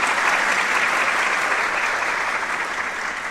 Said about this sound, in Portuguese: Vamos acolhê-lo com uma salva de palmas,